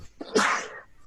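A single sharp human sneeze during a podcast recording, a short inhale followed by a loud burst that trails off quickly, heard alone.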